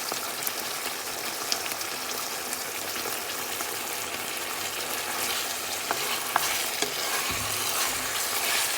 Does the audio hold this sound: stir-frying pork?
yes